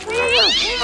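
A cat gives one drawn-out meow in the Grinch film, loud and close, sliding in pitch across under a second.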